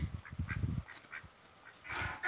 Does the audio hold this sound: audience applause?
no